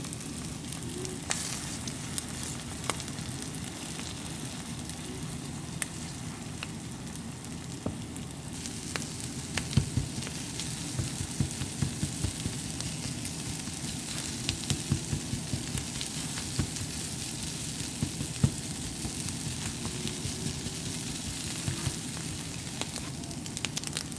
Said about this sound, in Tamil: இப்போ இது எல்லாத்தையும் நல்லா மிக்ஸ் கொள்ளுவோம்